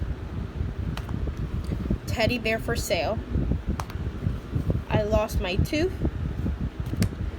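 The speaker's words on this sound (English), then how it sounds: "Sorry about the fan." A steady electric fan runs throughout on a hot day indoors, a constant broadband whir sitting under a person reading book titles aloud.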